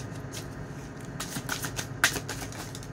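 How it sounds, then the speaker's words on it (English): Tarot cards being shuffled by hand, a run of soft riffling bursts with a sharper snap near the end, fairly close and quiet, no talk. "we're going to pull some more cards"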